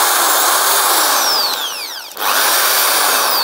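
A cheap corded electric drill set to normal drill mode spins up in a loud, steady high whine, dips briefly as the speed changes, then resumes at full speed, close and alone.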